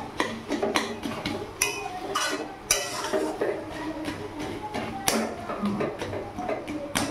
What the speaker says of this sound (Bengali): এখানে একটু আলুগুলো ভালো করে ঘেটে দিচ্ছি